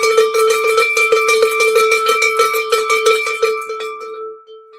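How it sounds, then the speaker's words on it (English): A hand bell rung rapidly and loudly up close for several seconds, bright clanging strokes in quick succession that ring out and fade at the end. "I'm supposed to ring the bell to keep you awake."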